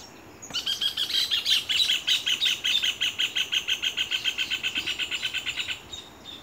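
Birds sing close by in a rural setting in a dense, rapid chorus of bright chirps and trills, one loud repeating call from a rufous hornero dominating for several seconds before fading.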